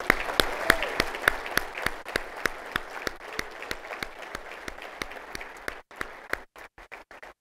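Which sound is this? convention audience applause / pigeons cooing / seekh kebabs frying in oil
convention audience applause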